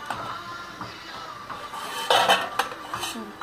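Metal pots and pans clank and knock in a home kitchen while vegetables are reheated and rice is put on to cook, with a cluster of louder clatters partway through over a low background.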